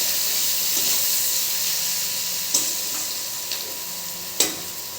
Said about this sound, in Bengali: এবারে নেড়ে চেড়ে পেঁয়াজটাকে লাল লাল করে নেব।